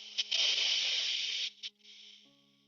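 Loud breathy qigong exhale to clear the liver, a long hissing 'shh'-like rush of breath lasting over a second, then a short second burst trailing off into faint background tones.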